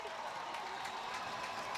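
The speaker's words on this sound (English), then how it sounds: "He can hear the crowd." Crowd noise from spectators lining Fifth Avenue at the New Balance Fifth Avenue Mile road race, a steady dense wash of cheering and applause held at an even level throughout, with no distinct voices standing out.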